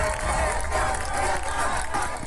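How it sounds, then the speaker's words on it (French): A large crowd applauds and cheers continuously, a dense roar of clapping and voices at steady loudness throughout. "Les images et le son de ces applaudissements ont été mis en ligne"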